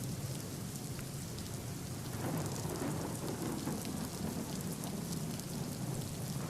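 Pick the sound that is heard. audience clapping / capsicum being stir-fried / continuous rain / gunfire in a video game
continuous rain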